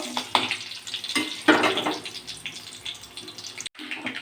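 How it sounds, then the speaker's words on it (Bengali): Curry leaves and dried red chillies fry in hot oil with a busy, close sizzle and crackle, with a few sharper pops, before a brief break near the end. "কারি পাতা দিলাম, দিয়ে একটু লাল করে একটু ভেজে নেব।"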